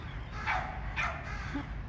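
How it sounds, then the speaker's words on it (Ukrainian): A dog barks twice outdoors, faint and distant, with a quiet pause between the barks and no talking. "А ну, там собачка гавкає."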